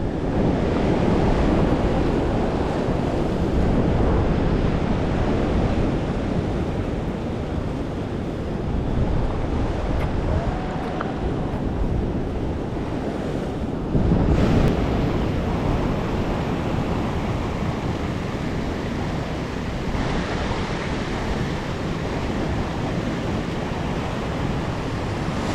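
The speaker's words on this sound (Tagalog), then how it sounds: "lumalaki ang alon." Large ocean waves crash and surge against a rocky shore at a rock fishing spot, a loud continuous roar with heavier breaking swells near the middle, mixed with wind buffeting the microphone.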